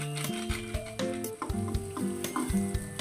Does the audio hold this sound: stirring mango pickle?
yes